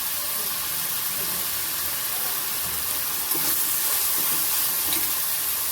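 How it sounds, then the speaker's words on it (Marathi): Spices sauté in hot oil in a pan while cooking spinach dal dhokli, a dense, steady sizzle and hiss that runs the whole time with faint scrapes of stirring, and no talk. "थोडासा कलर बदलेपर्यंत आपल्याला परतायचं आहे"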